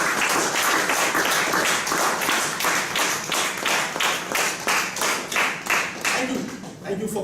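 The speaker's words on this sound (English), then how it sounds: "Let's all put together a big round of applause for distinguished Toastmaster" Audience applause for distinguished Toastmaster Ramesh Gopal at a Toastmasters keynote event, loud and sustained with a steady rhythmic clapping pulse running throughout and fading slightly at the end.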